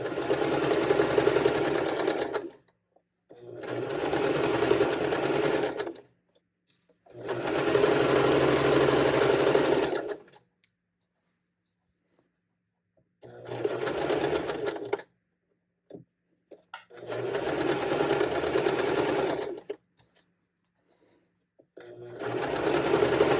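Sewing machine stitching the crotch seam of PJ shorts in short bursts of rapid whirring, six runs separated by pauses, close and clear with no talking.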